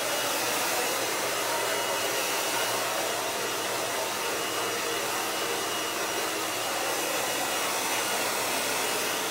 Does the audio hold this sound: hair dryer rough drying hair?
yes